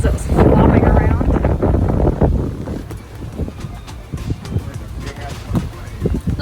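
Strong wind on a sailboat at sea buffets the microphone with a heavy roaring rumble that eases midway into gusty rustling and flapping, while people talk on board.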